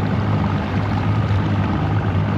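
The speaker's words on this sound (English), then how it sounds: "we're just gonna idle out of this marina here" Triton aluminum boat idling out of a marina on Percy Priest Lake, its engine giving a steady, loud low rumble with no talk.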